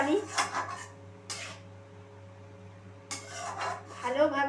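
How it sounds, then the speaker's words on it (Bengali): Cauliflower curry in coconut milk is stirred in a pot, giving a few bursts of metal spoon scraping and clinking against cookware, separated by quieter pauses over a steady low hum. "আমি সমস্ত কিছু মিশিয়ে নিচ্ছি।"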